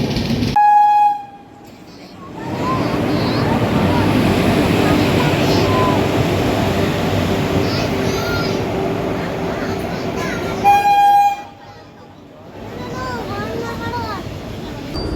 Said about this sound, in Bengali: আমাদের ডিব্রুগড়গামী কামরূপ এক্সপ্রেস।